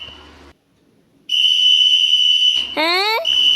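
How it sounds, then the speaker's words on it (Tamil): A loud, piercing whistle holds one steady high pitch for a couple of seconds, with a quick rising swoop near the end. "என்னது இந்நேரத்தில் விசில் அடிக்குது"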